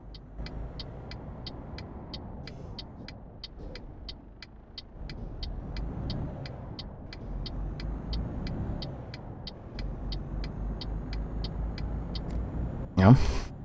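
A Mercedes truck engine in the driving game Euro Truck Simulator 2 drones as a steady low rumble, with a regular light ticking running over it and a brief louder burst near the end.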